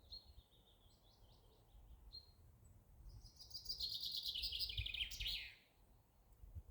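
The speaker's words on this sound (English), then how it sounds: "I can hear so much bird song." Birds chirp and trill in quick bright bursts, a short series of notes early, then a louder busy warbling phrase, over a quiet outdoor background.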